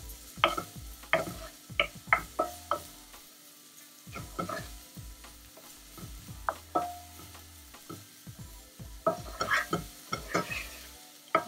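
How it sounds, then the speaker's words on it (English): Mushrooms, capsicum and other vegetables are sautéed in a pan, with a constant low sizzle broken by frequent sharp clicks and scrapes of a spatula stirring, nearby and unvoiced. "And saute all these vegetables."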